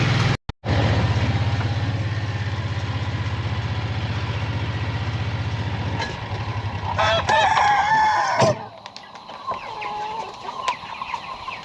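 Chickens and a rooster on a farm after a hurricane: a steady engine-like drone with wind, then a rooster crowing and clucking close by near the end.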